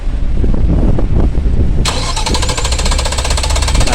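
A Nissan Teana V6 with a long-cranking, rough-running starting fault grinds through a loud extended starter crank close by before the engine catches and settles into a fast, shaky idle.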